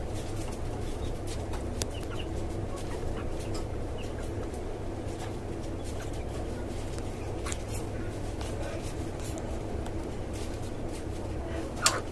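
A hen with her recently hatched chicks on a rooftop poultry farm, where native and tiger chickens are raised, gives soft clucks and chirps over a steady low background hum, with no talk.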